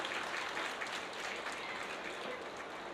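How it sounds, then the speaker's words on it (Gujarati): Broadband applause from an audience at a family get-together, a dense, steady clapping wash that holds evenly for the full few seconds with no talk over it. "એકવાર જોરદાર તાળીઓ દીધા બંને પરિવાર માટે."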